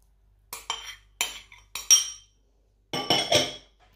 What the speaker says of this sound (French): dans un bol, je vais tout simplement venir mélanger mes spéculoos en poudre et mon beurre fondu